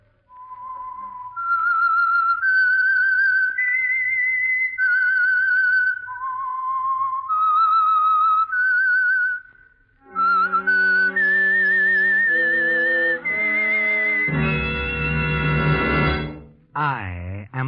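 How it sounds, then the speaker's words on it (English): The Whistler radio program's signature whistled theme: a lone melodic whistle carrying a slow, eerie tune, then joined by a loud orchestral swell that ends in a rising flourish. "That whistle is your signal for the Signal Oil Program"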